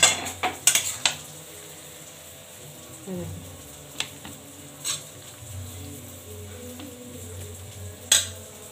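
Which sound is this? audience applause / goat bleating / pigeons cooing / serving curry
serving curry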